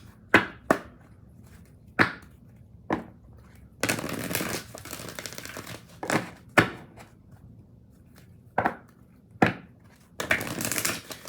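Oracle cards being shuffled and handled up close: sharp snaps and taps between two longer riffling bursts of card shuffling, with no talking.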